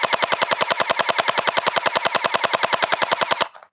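A NERF Pro Gel Fire Mythic gel blaster fires on full auto in one rapid, even burst of about thirty close, sharp shots that ends abruptly.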